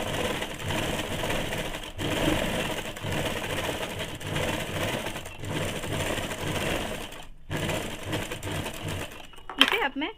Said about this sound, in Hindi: अब मैं डबल सिलाई डाल दूंगी।